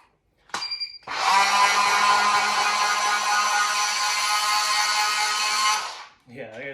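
A Strikemaster Lithium 24V 8-inch electric ice auger gives a short warning beep, then its motor spins up into a loud, steady whirring drone for about five seconds before winding down, with a voice briefly audible at the end.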